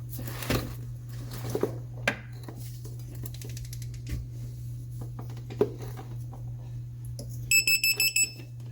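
A digital torque wrench reads angle while tightening a bolt on a 2012 Volvo S60 engine, with quiet clicks and taps, then a quick run of high electronic beeps near the end.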